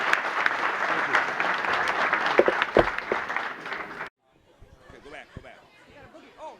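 An audience at a company event breaks into loud sustained applause with some chatter and light laughter, then the clapping cuts off and quieter voices and scattered sounds remain.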